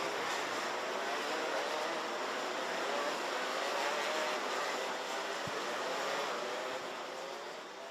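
Karts revving together at the start of a senior pre-final race on a 1,360 metre circuit, a dense, steady high-pitched engine drone that rises slightly and holds loud throughout, easing a little at the end.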